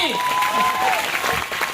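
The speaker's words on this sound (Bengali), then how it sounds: "একবার জোর হাততালি" A short burst of applause from a small group, clapping under a voice that is speaking.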